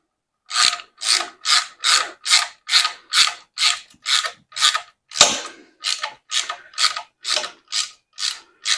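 A ratchet snugs a bolt on a Jegs engine stand holding a small block engine, giving a steady run of about sixteen evenly spaced, sharp clicking bursts, close and loud, with no talk.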